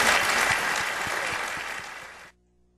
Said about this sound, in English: just give a round of applause for our three candidates,